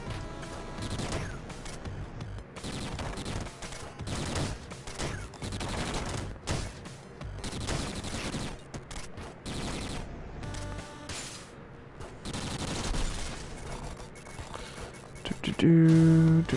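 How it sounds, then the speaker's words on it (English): Rapid bursts of gunfire from the Noppy machine-gun-style weapon in the video game Downwell, stuttering volleys of shots that come and go in clusters with brief pauses, ending in a louder electronic tone. "Noppy's kind of like the machine gun, but you can actually sort of angle the shots to some extent."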